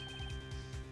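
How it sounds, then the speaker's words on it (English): A phone in the Phoenix Wright Ace Attorney video game rings with a short, bright electronic tone that repeats in quick pulses over a low hum, lasting under a second. "I heard a phone ring just now."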